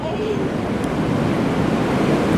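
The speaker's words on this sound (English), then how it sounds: "has been a long time since Eden's been in the sea." Sea waves washing around the Magpupungko rockpools on Siargao, a continuous wash of surf mixed with wind rumble on the microphone, steady and fairly loud.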